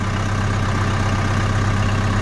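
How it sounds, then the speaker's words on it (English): A Kubota tractor's diesel engine idles steadily in a drive shed on an icy day, a loud, constant low rumble with no break or change in pitch and no voices over it. "we're going to see if we can get the tractor into the parking spot in the"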